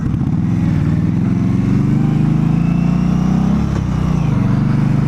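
An Indian Scout motorcycle ridden at a demo day, its engine note loud and steady with rising and falling pitch as the throttle changes, heard close up with no talk.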